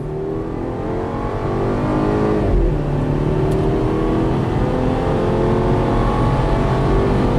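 A 2018 BMW X1 engine accelerating hard on the road, a loud, steady drone that climbs in pitch, dips briefly at a gear change, then rises again, with no talk over it.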